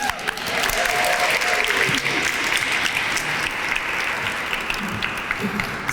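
An audience at a breast cancer awareness luncheon breaks into sustained applause, a dense clapping that stays loud throughout and eases slightly toward the end.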